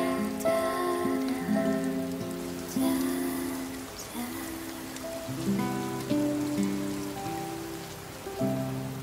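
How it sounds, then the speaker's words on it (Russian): Steady rain falls in Denmark, a close, continuous wash of patter with a sustained tonal hum layered over it and no voices. "Сейчас здесь идет дождь."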